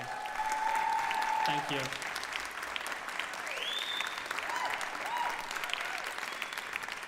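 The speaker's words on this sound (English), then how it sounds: "One more round of applause for that amazing performance, by the way." An audience at the VR Awards 2023 applauds a performance, with loud clapping that fades into scattered claps and whoops, while a voice briefly speaks over it.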